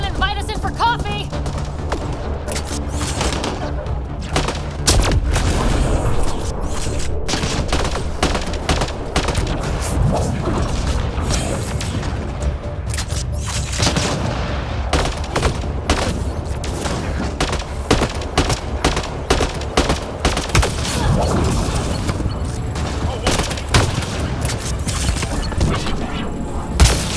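Dense gunfire in the sci-fi shooter Mass Effect Andromeda during a combat stretch on Kadara: rapid bursts and single shots crack continuously, mixed with booms and mechanical clatter, while characters occasionally speak.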